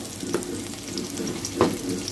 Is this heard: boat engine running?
no